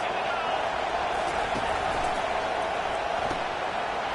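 A dense, steady roar from a stadium crowd in the College Football 25 video game continues throughout, with play-by-play commentary running over it.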